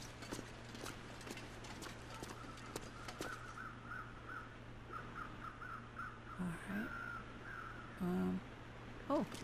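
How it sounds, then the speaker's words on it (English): Crows cawing in The Long Dark game's mountain wilderness near a covered bridge and waterfall, faint repeated caws over a steady low hum and rushing water, with a few short louder game sounds late on. "I hear crows."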